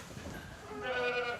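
Goats on an island farm bleat in a short, wavering call that rises toward the end, heard fairly close over a low outdoor background.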